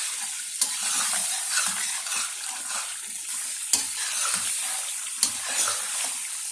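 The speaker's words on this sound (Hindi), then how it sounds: "मज़ीद हम इसकी 2-3 मिनट के लिए और भुनाई कर लेंगे ताकि जायका जो है वो हमें अच्छा मिले" Chicken and chickpea curry frying in a pot with stock, a steady wet sizzle broken by a few sharp scrapes of a spoon stirring, close and moderately loud, with no talking.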